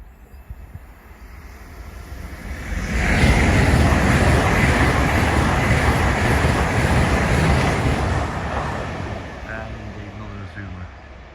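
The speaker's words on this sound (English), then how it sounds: "We can hear in the background the train." A train passes a rural level crossing, a broad rumbling roar that swells from a quiet start, holds loud for several seconds and fades, followed by faint tonal ringing near the end.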